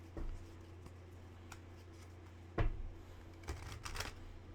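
Tarot cards are shuffled by hand in a quiet room, with soft, scattered riffles and taps: a faint start, an isolated sharper burst partway through, then a cluster of quick flicks near the end.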